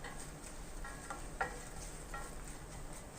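Garlic roasting in a pan for homemade garlic powder gives a soft, steady sizzle with a few light clicks and scrapes as it is stirred.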